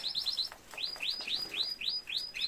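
Small caged birds chirp in quick, repeated high tweets, close and clear against quiet background.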